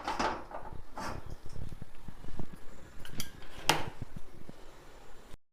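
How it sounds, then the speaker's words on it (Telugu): A thick iron kadai is set on a lit stove with a series of close metallic clanks and scrapes, the sharpest knock coming late. No one speaks. "స్టవ్ వెలిగించుకొని కళాయి పెట్టుకుందాం"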